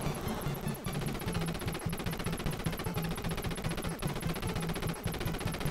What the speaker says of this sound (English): as long as you have the machine gun for these things